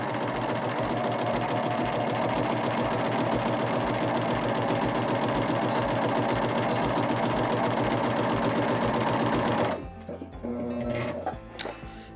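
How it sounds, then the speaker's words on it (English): A Baby Lock Vibrant serger stitching decorative braid runs with a fast, even mechanical chatter, loud and close, then stops near the end, leaving a few small clicks and handling noises. "So we'll just keep stitching on the braid until we have our entire piece done."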